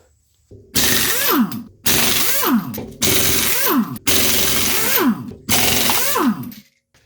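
An impact-style power tool removes a wheel from a Nissan Z31, firing five loud bursts in a row of about a second each, with short pauses between them.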